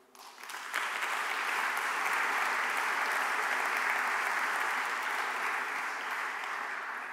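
An audience at a public assembly in Florence's Palazzo Vecchio bursts into full, sustained applause that swells within a second and holds steady and dense for several seconds.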